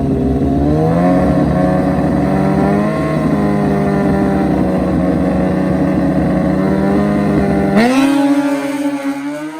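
A Suzuki Hayabusa drag racing motorcycle launches down the track at a drag race event, its loud engine note climbing steadily in pitch through the run and shifting abruptly near the end, close and dominant with no voices.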